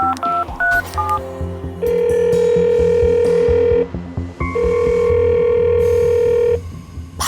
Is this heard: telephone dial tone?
yes